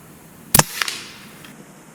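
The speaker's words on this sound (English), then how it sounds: "just fired our first official shot of the night" A single sharp report from an Air Venturi .25 PCP air rifle fired during a night squirrel hunt, a crisp crack followed by a faint echo, alone in quiet surroundings.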